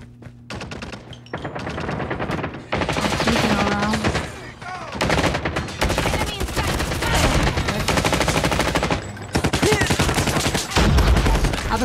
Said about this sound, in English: Because I'm over there with my sentry gun.